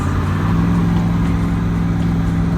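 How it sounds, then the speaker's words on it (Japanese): A car drifts as a steady, loud engine drone with a sustained low hum holds throughout, close and unbroken, with no voices over it. "あっちゃんああいう風にドリフトで行くのはかっこいいじゃない"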